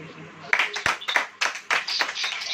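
A church congregation claps in short bursts of uneven, overlapping hand claps, close and fairly loud, with a voice speaking over them.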